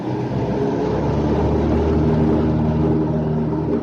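A Cessna 162 Skycatcher light aircraft engine roars steadily at full throttle on the takeoff run, a loud droning hum heard from inside the cockpit on a windy day.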